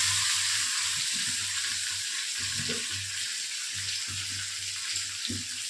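Thin-sliced potatoes and a small tomato with nigella seeds hiss and crackle steadily in hot oil, a loud continuous sizzle broken by soft bursts of stirring, with no voices.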